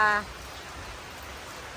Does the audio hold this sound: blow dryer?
no